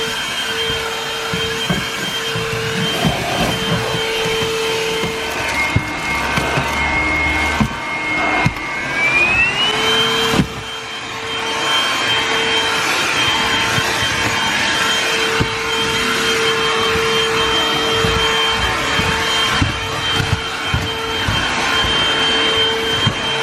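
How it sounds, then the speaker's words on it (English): A Black and Decker 3 in 1 cordless stick vacuum runs continuously while cleaning a car boot, a steady close whine with a pitch rise near the midpoint as it shifts from the lower to the higher suction mode, then holding loud to the end. "I'm going to start off with the lower suction mode and then the higher suction mode."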